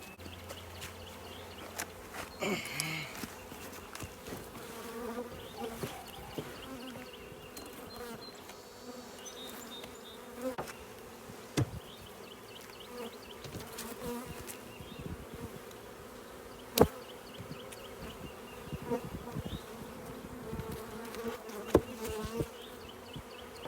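Honeybees buzz steadily during an early-spring hive inspection, a low continuous drone with a few louder clicks and knocks from handling the hive, and no voices.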